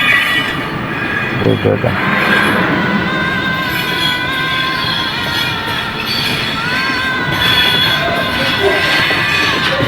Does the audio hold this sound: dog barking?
no